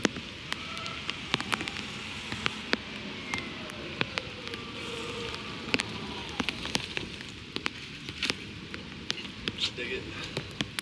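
Steady patter of rain on a hard surface, with scattered sharper drips over a soft continuous hiss.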